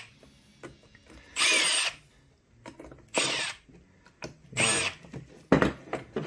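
Power drill backing screws out of a homemade router jig, four short bursts of whirring with pauses between them and small handling clicks, close and clear with no talking.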